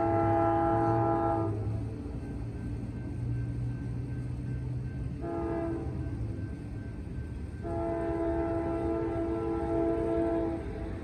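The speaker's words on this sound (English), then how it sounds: "There's a train coming." A train horn blares in long sustained blasts, sounding three times with pauses, over a steady low rumble of an approaching CSX train.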